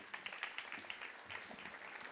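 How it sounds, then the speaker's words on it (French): Audience at a departmental housing conference in Haute-Savoie applauding a speaker, faint and somewhat distant clapping from a seated crowd, brief and even. "je vous invite bien évidemment à l'applaudir"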